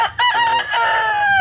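A rooster crows once, loud and close, in a single strained, drawn-out call.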